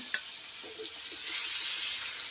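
Fish sizzles steadily as it fries in a pan in a village home kitchen, a continuous bright crackle with a faint clink near the start and no voices.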